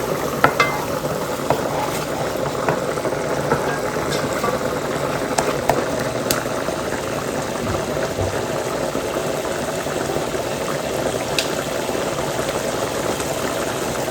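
Chili sauce, butter and garlic sizzle steadily in a pan, a constant low crackle with faint clinks of stirring.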